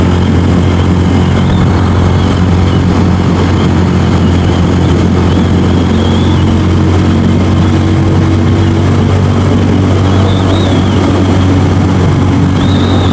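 A DF250RTS motorcycle engine runs in fourth gear at about 5,500 RPM, a loud, unbroken low drone heard close up throughout with steady rushing noise over it.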